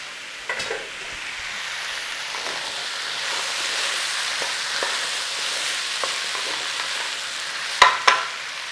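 Potatoes and cauliflower fry in a pot while being given a gentle stir, a soft steady sizzle with faint scraping and a couple of sharper knocks of the spoon near the end.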